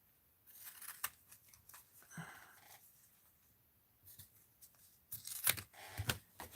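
Strips of tape being snipped with scissors for craft tape clusters: several short, sharp cuts and rustling, faint and close, spread across a few seconds.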